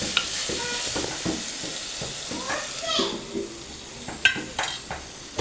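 Onions and tomatoes sizzle and fry in a pan, with clinking stirs and a light steady crackle, while a voice speaks faintly in the background.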